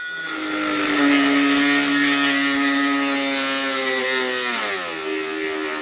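A Walmart cordless rotary tool whines steadily at high speed, close and loud, its pitch sagging near the end as it bogs down on a weak battery.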